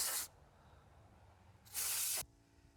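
Air compressor nozzle blowing air onto the outdoor coils of a Mr Cool 24K BTU mini split, two short loud hissing bursts separated by a quiet gap, the second slightly longer.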